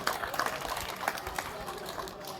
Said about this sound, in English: Big round of applause once again for Ronaldo, guys.